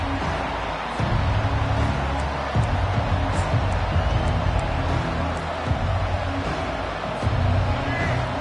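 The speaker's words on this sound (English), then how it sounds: "This crowd bringing the energy and noise early." A large college football stadium crowd roars in a continuous broad wash of noise, with a commentator talking over it.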